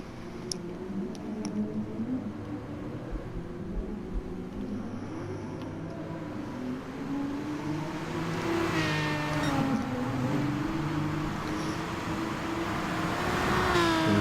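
Race car leaving the pit lane at Spa-Francorchamps, engine rising from a faint distant drone to a louder accelerating whine with a few ticks, no talk.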